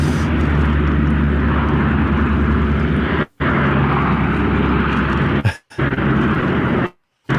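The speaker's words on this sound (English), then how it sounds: "But mostly still those radial engines." Radial-engine propeller airplane flying past at an air display, a loud sustained engine drone with a low rumbling throb, broken by brief dropouts.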